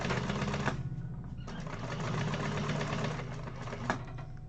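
Sewing machine top stitching a side panel on a triple zip bag, a steady rapid mechanical whirr and needle chatter close by, running continuously with a brief slowdown partway.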